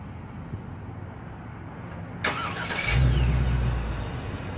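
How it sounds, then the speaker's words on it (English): An RV engine cranks and starts after its dead battery was replaced in a parking lot, a brief sharp crank followed by a steady, close idle rumble that holds through the end, with no talking. "our battery is back running, or engine's back running, I should say, because of the new battery."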